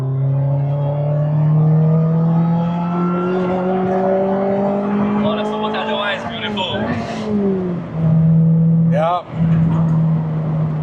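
A Lotus Elise engine revs loud and close, its pitch climbing steadily through the gears before a sharp dip, a brief rasping burble and a fresh rise; some speech is present in the mix.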